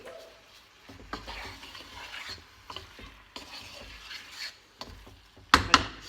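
A utensil scrapes and stirs through food in a pot, with soft sloshing and a light sizzle, ending in a couple of sharp metallic clinks.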